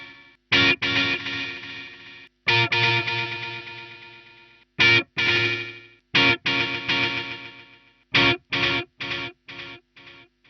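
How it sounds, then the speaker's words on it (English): Distorted electric guitar through a Korg A3 effects unit in multi-tap delay modes, struck chords cutting off into repeating echoes, several separate stabs and decaying tails with gaps of silence between. "I don't mind that multi-tap delay in the slightest. There are several different multi-tap modes."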